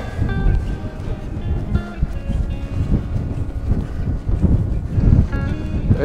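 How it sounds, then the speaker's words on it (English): Gusty wind buffets the microphone with low rumbling bursts, continuous and fairly loud throughout. "Breezy day."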